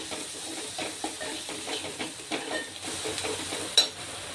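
Turmeric and masala are stirred into a pan for misal, giving a soft, steady sizzle with repeated scraping strokes and a light metallic clink near the end.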